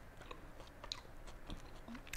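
Close, quiet chewing of a grilled cheese sandwich with fig butter: soft, irregular mouth sounds and light crunches that continue steadily with no talking.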